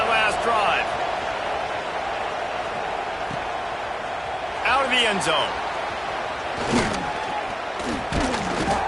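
A stadium crowd at a football game roars during a kickoff, a broad steady wash of cheering with a few louder swells, while a broadcaster talks over it.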